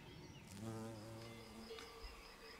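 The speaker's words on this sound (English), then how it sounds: "Buff-tailed bumblebee." A buff-tailed bumblebee buzzes among pond-side flowers, a faint, steady drone with a wavering pitch that holds for a couple of seconds, quiet and alone.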